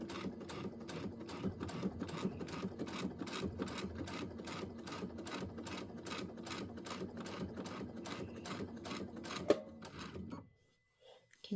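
A sewing machine stitches Christmas quilt blocks in a fast, even run of needle strokes, steady and close, then stops abruptly near the end, leaving near silence.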